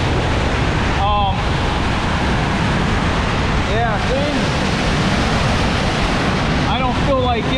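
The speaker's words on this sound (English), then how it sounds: "this water is really kicking" Water rushes loudly through a lake drainage tube at Upper Girard Lake, Ohio, a constant close broadband roar with a voice speaking briefly over it several times.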